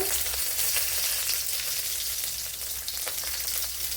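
Ginger, garlic and green chillies sauté in a pan for a home-style beetroot and drumstick curry, with a continuous bright sizzle and crackle close up and no voices.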